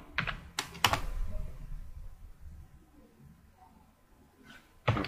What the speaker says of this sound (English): Type this command: Spring Boot colon run.